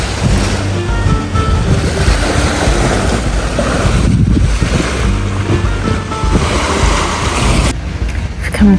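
Loud, continuous surf from the sea on the Corfu shore rolls and washes close by, heavy with wind rumble on the microphone and no speech.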